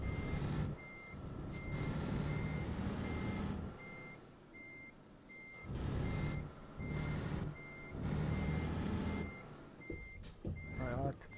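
In Euro Truck Simulator 2, a Mercedes-Benz Actros truck's reversing alarm beeps in a steady, evenly spaced series over the low rumble of the engine, while someone talks in between.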